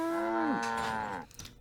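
A cartoon cow gives a single drawn-out moo, a strong tonal lowing that slides down in pitch before breaking off, followed by a brief soft noise.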